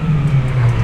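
A Yamaha R6 or Ducati Panigale sport bike at full throttle in a parking garage, a brief loud sustained engine whine with a steady pitch.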